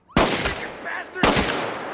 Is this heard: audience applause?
no